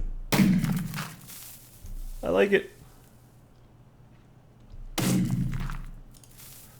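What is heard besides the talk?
explosions in a video game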